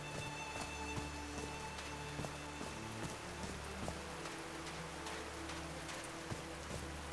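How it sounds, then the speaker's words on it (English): Steady rain pattering down in the adventure game Call of the Sea, a dense continuous hiss with scattered droplet ticks, heard alone with no talk, with faint tonal music lines running underneath. "These drops of rain are so refreshing."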